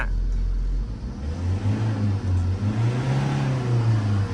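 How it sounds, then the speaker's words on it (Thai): A Tata diesel truck engine revs loudly up close. It has a warning light on, shakes, stumbles and accelerates sluggishly, and the drone climbs in pitch with uneven surges. "แล้วมันก็จะเร่งขึ้นมาอีกนะฮะ"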